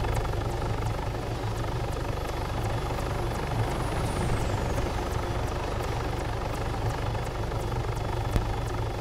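A helicopter in a video game drones steadily with a rapid, regular rotor thudding and a whining engine tone that dips partway through, loud and continuous with no talking.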